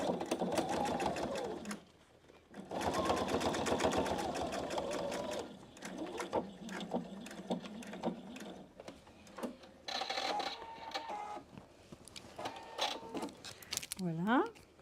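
PFAFF Expression 720 sewing machine stitching a fabric pouch, running in long steady bursts with brief pauses, close up and fairly quiet, as someone talks intermittently.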